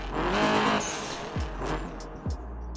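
A modified car in the Night Runners video game, recently fitted with a big aftermarket exhaust, roars as its engine revs, then drops into two quick downward pitch sweeps like gear shifts, loud and close with no talking.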